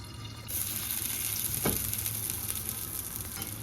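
Ragi vegetable bun dosa batter sizzles steadily in a covered pan over medium flame, a continuous close frying hiss with one brief knock partway through.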